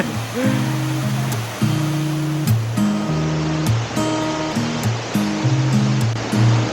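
Water of the small Kulikuli cold spring in San Luis, Aurora, rushing steadily and fairly loud, under a melodic music track that plays throughout.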